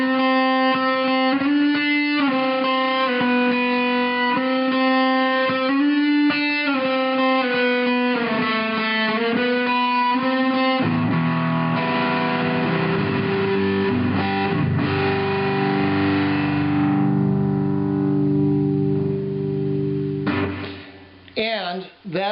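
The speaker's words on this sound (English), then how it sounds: "I've got a little delay. I've got the reverb from the Princeton." An electric guitar plays through a Princeton amp with a little delay and reverb. It opens with a sequence of sustained single notes, then moves into ringing, chordal phrases whose echoes trail off toward the end.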